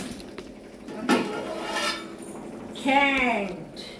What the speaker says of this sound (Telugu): గిన్నె తీసి ఇక్కడ పెట్టేసుకుందాం.